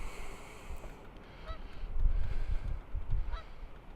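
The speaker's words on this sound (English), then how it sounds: "Canada geese." A couple of distant Canada goose honks sound over low, rumbling outdoor noise.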